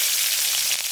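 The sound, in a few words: green chilies sizzling as they fry in oil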